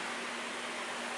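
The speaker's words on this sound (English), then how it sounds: "sorry about the fan noise" A fan runs in a garage, producing a steady airy whoosh with a faint low tonal hum underneath, constant and unbroken over a brief moment.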